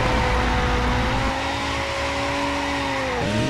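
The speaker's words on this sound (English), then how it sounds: "And this car is sliding." A 450 hp Audi R8 slides in CarX Drift Racing on Android, a loud sustained tire squeal with steady engine drone that holds for about three seconds, then breaks off briefly and resumes near the end.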